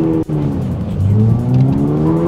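Drifting car with wheelspin and tire squeal on a drift course, the engine revving and climbing in pitch as the tires scream loudly right up close, with a brief dropout near the start.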